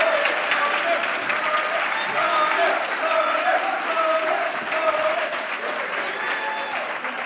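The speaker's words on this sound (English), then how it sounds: "warm round of applause for Alex" A debate audience claps warmly for Alex O'Connor, with loud, dense applause filling the hall and holding steady before easing slightly toward the end.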